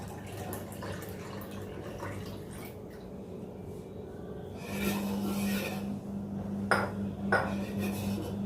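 Chilled milk is poured into a cooled ragi mixture for a milkshake, giving a soft steady trickle that grows fuller partway through, with faint clinks of a vessel and no speech.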